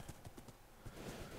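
Quick, even clip-clop of a gray-white horse's hooves in Minecraft, several light steps in a steady rhythm, close and fairly soft, with no talking.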